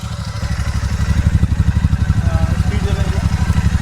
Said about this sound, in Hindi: तो इसी बात पे एक बार सुन लें इसका एग्जॉस्ट नोट।